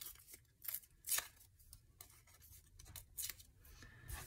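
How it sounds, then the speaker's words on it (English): Paper scraps being torn at the edges for an art journal, a series of soft, close rips and rustles in uneven bursts, quiet and without talk. "I'm just kind of ripping the edges here."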